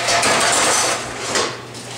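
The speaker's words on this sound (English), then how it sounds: "I've got two full-size pans. If I stack them, I got them both on there, right?" Two full-size metal pans clattering as they are stacked in a dish rack in a commercial kitchen dish room, a loud metallic scrape and clank over ongoing kitchen noise.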